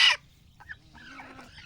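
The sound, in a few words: brooding hen clucking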